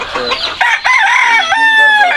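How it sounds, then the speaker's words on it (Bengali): A rooster crows loudly and close by on a poultry farm, a long drawn-out call with clucking Fayoumi hens mixed in. "এই যে মুরগি দেখছি এখানে"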